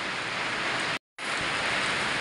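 Heavy rain pours steadily and loudly, a dense, unbroken hiss that cuts out completely for a split second midway before resuming at full strength.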